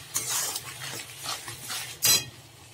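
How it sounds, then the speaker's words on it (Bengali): Ground spices such as cumin and chilli powder are stirred in oil in a pan, giving soft scraping strokes of a spatula and a sharp metallic clank near the end, with no talking. "এবারে মশলাগুলো কষিয়ে নেব।"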